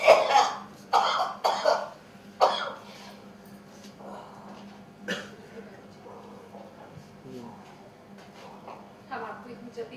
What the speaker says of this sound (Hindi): खांसी खांसी